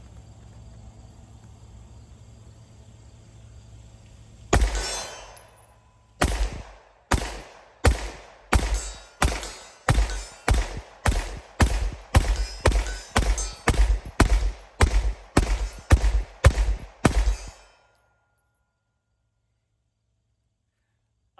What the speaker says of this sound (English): Let's shoot it like a pistol.